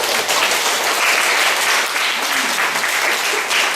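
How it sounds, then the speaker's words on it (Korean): A church congregation applauds together, a thick, steady roar of many hands clapping at close range with no break and no speech over it. "한번 박수 한번 주세요."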